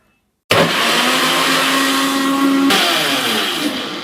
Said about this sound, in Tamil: இப்ப எல்லாத்தையும் போட்டாச்சு, அரைச்சிக்கலாம் வாங்க.